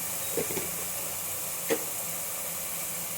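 Spices such as turmeric and coriander powder fry in a pan for a mushroom biryani, giving a steady, soft hiss with a few faint clicks and pops.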